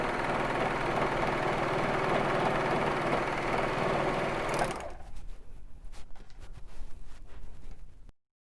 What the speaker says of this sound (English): So here's the serged edge I just did.